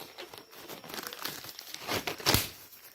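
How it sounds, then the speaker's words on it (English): A removed PPE glove is crumpled by hand, producing close, crinkly rustling in irregular bursts that peaks sharply near the end, with no talking. "you're going to crumple it in the other part of gloves"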